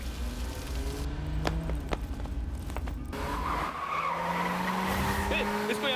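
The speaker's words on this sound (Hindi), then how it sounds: "तू जल्दी गाड़ी भगा।" A car in a Hindi action film tears away at speed with tires skidding and squealing, engine roaring steadily throughout under dramatic scoring, with no talk over it.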